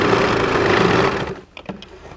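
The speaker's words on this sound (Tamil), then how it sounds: "கரெக்டாக ஒரே மாதிரி மடித்து வச்சு அடிச்சுக்கோங்க" A sewing machine stitches folded fabric in a fast, loud, continuous whir that stops after about a second and a half, followed by a few faint clicks.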